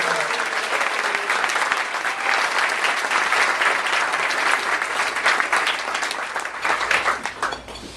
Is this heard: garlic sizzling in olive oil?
no